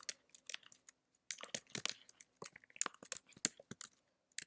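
Quick irregular clicks of a computer keyboard as an equation is typed into MathType, close and fairly quiet, coming in short bursts separated by pauses.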